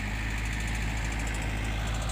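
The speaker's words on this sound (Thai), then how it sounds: "รถไถแท็กเตอร์นะครับ เป็นยันมานะ" A Yanmar tractor, used for grading soil and laterite for a road, idles nearby with a steady, loud low rumble and constant vibration throughout.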